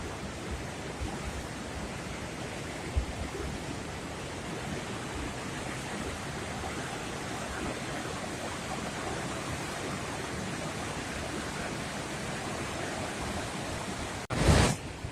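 Falls pour hard on a windy day, making a faint, steady broadband rush of water that carries on without a break, with a brief bump of handling or wind noise right at the end.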